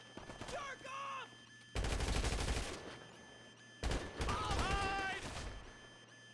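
Bursts of automatic gunfire in GTA Online, two dense, loud volleys of rapid shots separated by short gaps, with a voice shouting briefly and game sounds around them.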